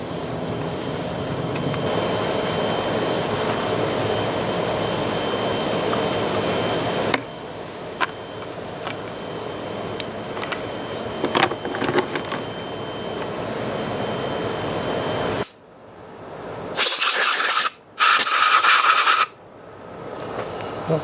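Compressed air blows out a Paslode trim nailer that is not driving nails: two loud, sharp blasts of about a second each, following a long, steady mechanical drone.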